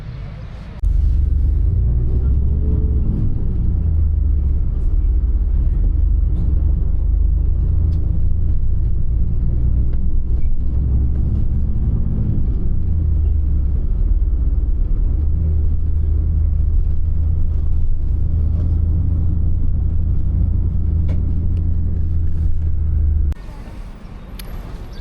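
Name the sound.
bus ride engine rumble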